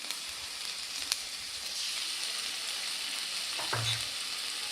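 Manchurian sauce with tomato sauce sizzles steadily in a pan while being stirred, with a close hiss and an occasional scrape or clink of the spoon.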